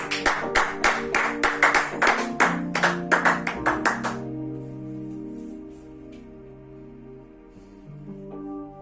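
A church congregation claps in a quick, even rhythm for about four seconds, the sharp claps close and loud, before fading out under sustained keyboard tones.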